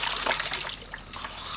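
Water runs from a tap fed by a Shurflo Trail King 7 pump in a DIY overlanding or van water system, a steady close trickle and splash with no talking.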